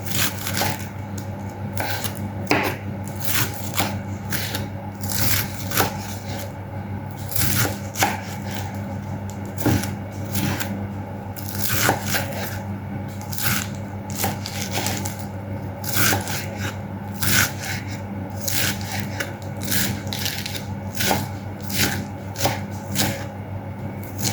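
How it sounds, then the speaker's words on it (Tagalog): A knife chops iceberg lettuce into small pieces on a cutting board, a long run of quick, uneven crisp taps that come close and steady without any voice. "Ngayon, hiwain natin ng maliliit ating lettuce."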